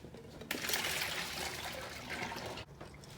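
Water running into a pot of boiled eggs with ice to cool them, a steady close pouring rush lasting about two seconds and then stopping abruptly, with no voices over it.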